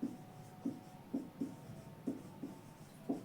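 Chalk or marker writing on a board during a Hindi-language class 12 physics lesson, faint scratchy strokes in short irregular bursts, about eight distinct taps and scrapes in a quiet room.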